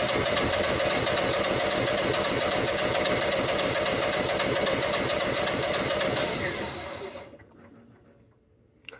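A Generac standby generator cranking in a fourth attempt to start after overcrank faults, a steady loud rhythmic starter churn for about seven seconds that fades out abruptly, followed by near silence and a faint click.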